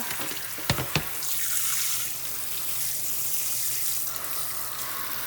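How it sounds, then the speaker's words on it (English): Okra is rinsed under a running kitchen tap: two sharp clicks, then a steady, close hiss of water flowing and splashing into the sink with no talk. "And then washing off this okra."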